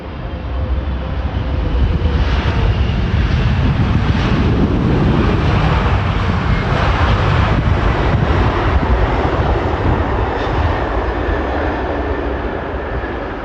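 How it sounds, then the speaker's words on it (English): A Boeing 777 lands without reverse thrust on its right engine, a loud, steady roar of jet engines and rushing air that holds unbroken for the whole stretch. "This Boeing 777 landing without using its right engine's reverse thrust."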